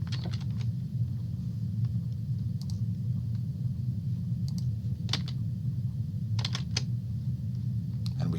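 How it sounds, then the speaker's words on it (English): Scattered, short computer-keyboard keystrokes, a few isolated clicks and brief bursts of several at a time, faint over a steady low room hum with no voices. "If I could stop hitting the wrong keys"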